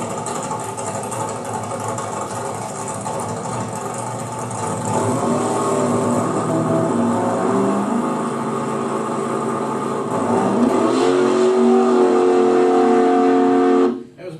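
Drag race car launching from the start line at part throttle, engine rising from a rumble into a rough climbing roar that swells twice before cutting off abruptly.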